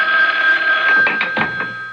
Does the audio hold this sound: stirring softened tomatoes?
no